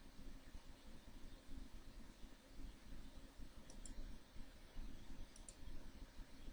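Two quick pairs of faint computer mouse clicks, a few seconds apart, sit over a steady low hum in a quiet room.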